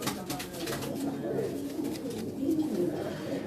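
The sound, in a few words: pigeons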